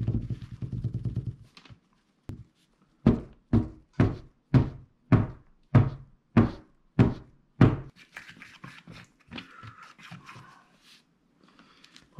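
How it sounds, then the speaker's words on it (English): A rock mold filled with runny casting plaster is banged on a surface about ten times in a steady rhythm, each knock a sharp close thunk, followed by softer handling and rustling. "now they say jiggle it, bang it around, get rid of the"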